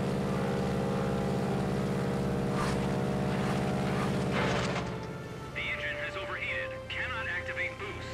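A warplane engine in the game World of Warplanes roars steadily and loud, then drops off after a few seconds as the boost ends, leaving a lower hum with brief tonal whines, while someone talks over it.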